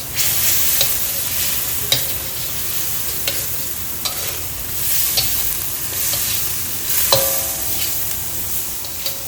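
Garlic stir-fries in hot oil in a pan, a loud, steady sizzle broken by regular clicks and scrapes of a utensil stirring against the metal.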